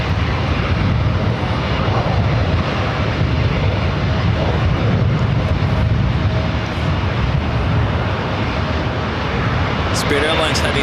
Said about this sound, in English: Spirit Airlines heading to Chicago O'Hare. It's an A321.